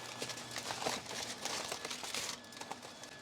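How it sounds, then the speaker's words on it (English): Smoked baby back ribs being unwrapped from their wrap, giving a close, steady run of crinkling and rustling that continues for about three seconds with no talking. "You're going to go ahead and unwrap these ribs."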